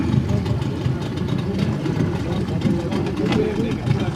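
A motorboat engine drones steadily on shallow water, a constant low rumble while a towed boat moves slowly; people talk over the engine noise throughout.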